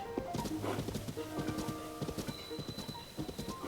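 Horse hooves clip-clop steadily in the video game Tears of the Kingdom, a brisk regular rhythm of close hoofbeats with a brief whinny-like tone over the gait, no talk.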